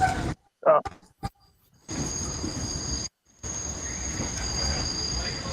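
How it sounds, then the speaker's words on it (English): A train rolls along rails with a steady broadband rumble and a high, sustained wheel squeal, broken by brief gaps and a few short bumps at the start. "I'm on a train."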